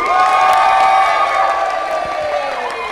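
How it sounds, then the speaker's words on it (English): An audience clapping, whooping and cheering at an outdoor street theatre show, a loud sustained wash of applause and shouts from many people. "if you could all clap, whoop, and cheer as loud as you can"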